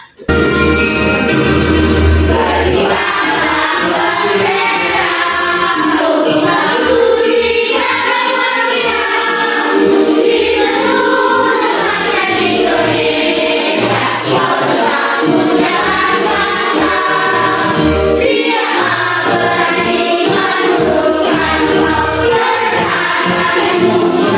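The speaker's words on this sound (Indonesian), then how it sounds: "mari kita menyanyikan lagu nasional yang berjudul Benderaku. Anak-anak bernyanyi dengan semangat." Children sing the Indonesian national song Benderaku together in a classroom, loud and spirited, a continuous chorus of young voices filling the whole stretch.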